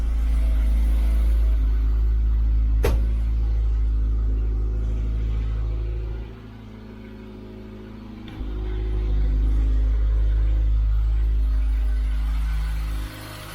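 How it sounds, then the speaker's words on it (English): Austin Allegro engine idling with a blowing exhaust, a loud continuous low rumble that briefly softens midway before swelling back, with a sharp click early on and no talking. "Yeah, the exhaust still hasn't fixed itself. I've got a blowing exhaust"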